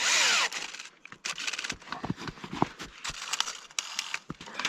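A power drill whirs in short bursts, stopping and starting repeatedly, with clicks and clunks of handling between runs, close by, while installing shut-off valves in sugar woods.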